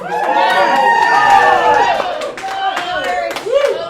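A huge stadium crowd of over sixty thousand at a rugby game in the United States claps and cheers, with loud roaring and applause bursts as an announcer speaks over the noise.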